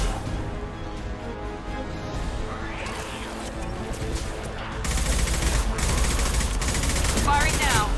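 Gunfire in the video game Mass Effect 2, heard as loud sustained bursts of automatic weapon fire that intensify midway into a dense fusillade, with a voice shouting among the shots.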